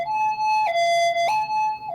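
Ambulance siren wailing in a two-tone hi-lo pattern, alternating pitch roughly every 0.6 seconds, loud and close with no talk over it.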